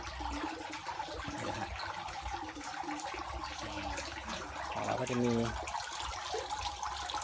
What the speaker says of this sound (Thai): บ่อก็จะมีน้ำตกให้เขาด้วยนี่ ครับน้ำตก